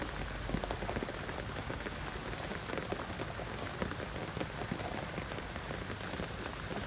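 Dense, steady rain pattering on surfaces nearby and falling into a swimming pool, a continuous even hiss of drops with no voices.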